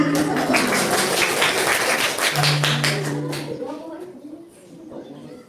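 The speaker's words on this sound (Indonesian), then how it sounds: "Oke, tepuk tangan." A school class claps together on the teacher's cue during a morning lesson. The brisk burst of hand claps lasts a few seconds, then fades out, leaving quieter room sound.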